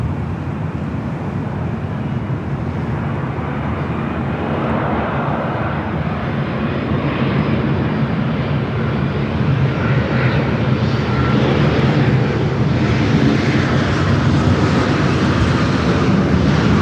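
A Boeing 787-9 airliner inbound from Tokyo Narita roars past at Los Angeles International Airport, its loud, broad jet engine rumble holding steady and swelling slightly as it nears, with no talk over it.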